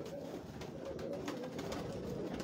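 Tiger-breed pigeons coo on a rooftop in Lahore, soft repeated low coos over a faint steady background hum, with no talk.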